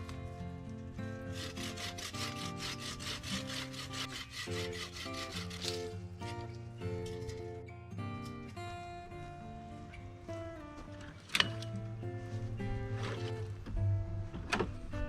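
A hand saw cuts through low tree branches on a farm, its steady back-and-forth strokes rasping rhythmically through the wood up close for about fifteen seconds, with a louder snap partway through and no talking.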